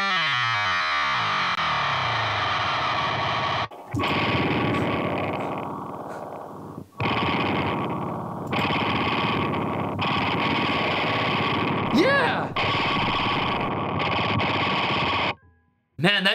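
High E guitar string detuned extremely low and auto-tuned, giving a buzzy, heavily processed low drone that repeats in several sustained phrases separated by short gaps, with one brief pitch sweep near the end.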